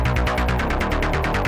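Arturia Pigments synth preset run through a cluster filter, a dense hollow pad whose tone sweeps in fast rhythmic pulses about ten times a second, steady and loud throughout.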